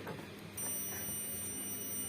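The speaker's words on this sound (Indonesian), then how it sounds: "Kita siapkan untuk multitesternya bagian buzzer yang ada bunyi" A multimeter's continuity buzzer sounds while checking the filament of a Hannochs 45 watt PAR lamp: a short quiet pause, then a steady, unbroken electronic beep that holds to the end.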